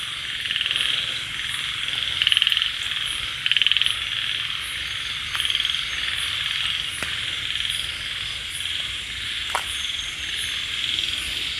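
Frogs croaking in a steady chorus on a night-time frog hunt in rural Thailand, with repeated loud calls rising above a constant bed of crickets and insects, plus a few sharp clicks.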